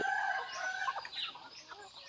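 Backyard farm chickens cluck and squawk nearby, a busy mix of overlapping bird calls at moderate volume with no clear pauses.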